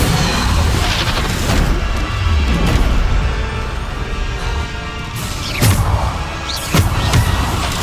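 Bombarda and Depulso spell explosions in Hogwarts Legacy combat: a dense run of heavy booms, crashes and whooshing blasts in quick succession, loud and close, with sharp impacts standing out near the end.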